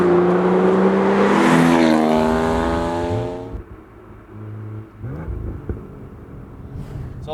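A BMW M2 turbocharged engine accelerates hard in third gear from about 2,500 RPM, a loud, rising exhaust note that climbs steadily, then drops off into crackles and pops on the overrun.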